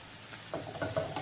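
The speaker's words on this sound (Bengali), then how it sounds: "মশলাটা আমি ভালো করে ভেজে নেব।" Chili powder, turmeric, coriander-cumin and garam masala frying in a pan for prawn korma, soft scraping stirs and a light sizzle in a few short strokes.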